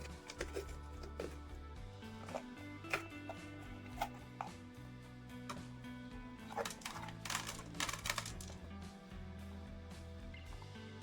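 A knife cuts the seed cores out of bell peppers on a board, producing quiet, irregular close-up cuts and taps with a soft background hum and no speech.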